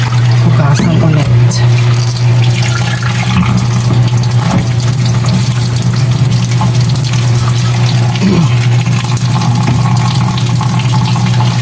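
Kangkong, or water spinach, is rinsed under a running kitchen tap. The water gushes loudly and steadily with a constant hum, and leaves splash and rustle in the stream.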